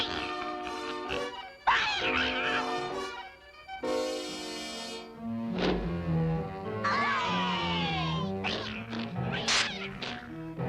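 High, drawn-out meows sound repeatedly, some rising and wavering, with brief gaps between calls and a few other squeaky sounds mixed in.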